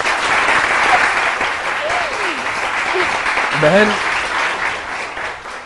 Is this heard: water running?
no